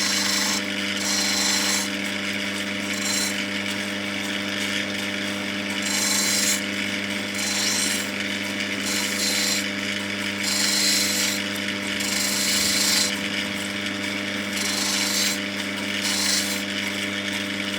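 A grinding wheel works on a fragile natural Ethiopian opal to strip away sand, giving a steady motor hum with repeated bursts of gritty, hissing abrasion as the stone is pressed to the wheel, close and with no talking.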